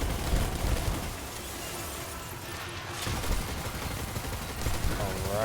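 Rapid bursts of Tarrabah gunfire in a video game, dense and continuous across the whole stretch, loud and close with no pauses, while a voice talks over parts of it.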